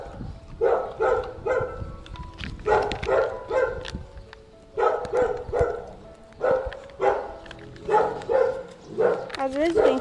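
An old stray dog barks in quick bursts of two or three, repeating at fairly regular intervals and at close range. A woman can be heard talking at times between the barks.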